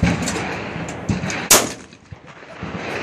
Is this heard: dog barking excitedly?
no